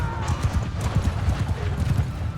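Galloping horse hooves thud in a fast, steady clip-clop during a Mount & Blade II Bannerlord battle, close and continuous beneath a busy game soundscape of clatter and distant noise.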